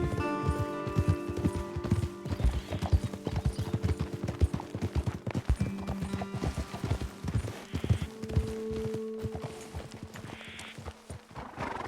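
Several horses ridden at a steady pace in Red Dead Redemption 2, their hooves clip-clopping in a continuous close rhythm over the full stretch, with a few whinnies and snorts breaking in.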